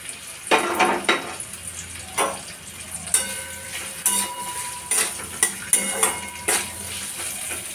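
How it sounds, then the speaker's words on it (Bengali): Potatoes and cauliflower frying together in a pan, with a steady sizzle beneath repeated metallic clanks and scrapes of a spatula stirring at an uneven rhythm, close and fairly loud. "আলু আর ফুলকপিটা আমি একসাথেই ভেজে নেব"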